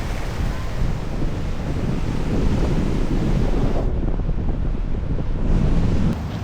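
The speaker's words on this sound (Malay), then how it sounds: "Oh dia ombak besar-besar." Large ocean waves breaking on a beach, a loud continuous roar of surf mixed with heavy wind buffeting the microphone, steady throughout with no speech.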